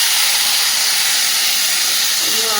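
Water poured into a hot pan of soya chunks and potatoes frying with spices sets off a loud, continuous steamy hiss and sizzle, close and steady throughout.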